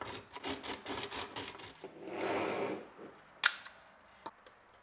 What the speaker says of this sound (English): I trim it off with a knife and use some sandpaper to round off the edge